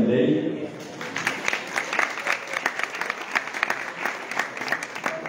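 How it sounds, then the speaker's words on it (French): A crowd at a scholarship ceremony claps for the members of a preselection committee, the applause steady and moderately loud after a speaker's voice briefly opens the moment. "Merci d'applaudir Madame Moukita Jamanilei"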